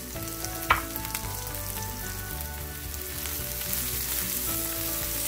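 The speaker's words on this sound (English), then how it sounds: "After the potatoes brown a bit, we're going to add the green beans and the coriander powder." Cubed potatoes sizzling and frying in a pan over a medium flame for a garlic green bean stir fry, a soft, even crackle with a brief clink of the utensil early on.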